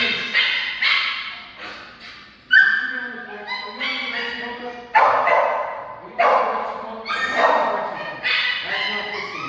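A dog gives short barks and yips with some whimpering during leash training, the outbursts coming in repeated bursts close by, mixed with a person talking throughout.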